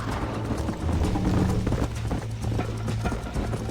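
Horse hooves galloping in the Red Dead Redemption video game on PC, a steady rhythmic run of fairly close hoofbeats over a low continuous game soundscape.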